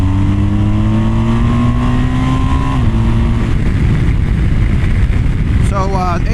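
A Harley-Davidson motorcycle pulls away and gathers speed on a treated road before a snowstorm, its loud, steady engine note climbing in pitch through the gears while heavy wind rush runs throughout.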